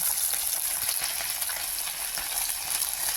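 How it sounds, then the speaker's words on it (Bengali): Bata fish frying in hot oil with black and white mustard seeds and black cumin, giving a steady, close, crackling sizzle that carries on without a break. "দেখুন কালো সাদা সরষে আর কালো জিরে দিয়ে আমি মাছটা ভেজে নেব।"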